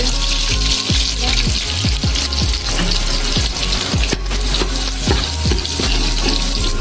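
Butter sizzles and fries steadily in a pan of rendered pork fat, a loud, continuous crackling hiss with repeated stirring scrapes throughout.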